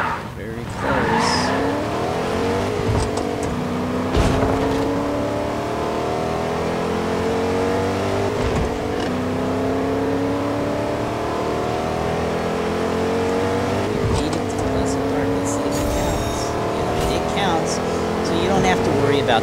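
A car drives in the video game Fortnite, its engine droning and shifting pitch steadily throughout with occasional skids and bumps, while someone talks over it.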